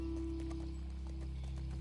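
Horse hooves clip-clop at a steady walking rhythm during a horseback ride in The Last of Us Part 2. The hoofbeats are faint and sit over a constant low ambient hum.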